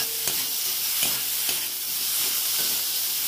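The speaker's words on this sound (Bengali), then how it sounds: "বেগুনটাকে নুন হলুদটা ভালো করে ভেজে নেবো" Eggplant with salt and turmeric sizzles steadily in hot oil in a pan, a dense close-up crackle broken by a few soft scraping stirs, with no talk.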